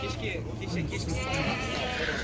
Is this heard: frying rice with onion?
no